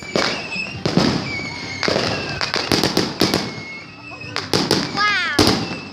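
Fireworks exploding in a rapid series of loud bangs and crackles, with whistling rockets rising near the end, while people talk and cheer over them.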